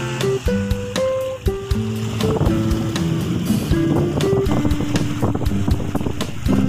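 Strong gusts buffet the microphone while waves churn around a kayak out on the water in the rain, a continuous loud roar broken by sharp knocks.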